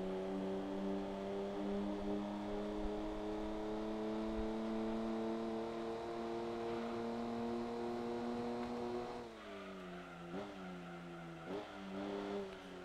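An old car races in the video game Gran Turismo 2, its engine holding a loud, steady high-rev drone that drops sharply partway through, then rises again in short bursts of acceleration.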